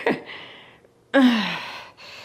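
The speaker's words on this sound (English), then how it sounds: "you can hear how hard I'm breathing" Heavy, effortful breathing during a dumbbell full-body workout: a sharp gasping inhale, a pause, then a long loud exhale followed by another breath, close to the mic.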